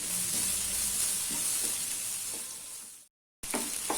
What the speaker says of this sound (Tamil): இப்போ இந்த வெங்காயத்தை போட்டு வதக்கிக்கலாம். வெங்காயம் வதங்கிறதுக்கு கொஞ்சமாக உப்பு போட்டுக்கிறேன்.